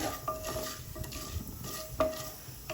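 A wooden stick stirs pumpkin curry in a non-stick pan, giving close, repeated scraping strokes and soft knocks over a faint sizzle, with no speech.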